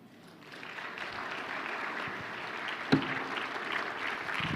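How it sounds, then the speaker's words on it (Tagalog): An audience claps at a church sermon, the applause starting faint and swelling into steady, moderately loud clapping, with one sharp knock near the middle. "Akasan niyo yung palakpak niyo."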